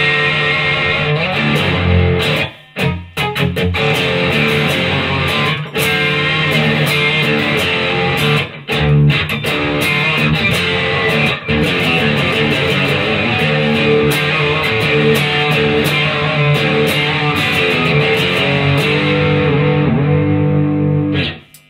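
An electric guitar runs through a Wampler Pinnacle distortion pedal, playing dense, sustained distorted chords and riffs at high volume for the whole stretch, with only brief gaps where it cuts out.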